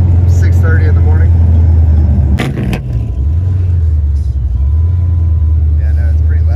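A loud car engine idles and rumbles steadily nearby early in the morning, with a brief surge in the middle and faint talk in the background.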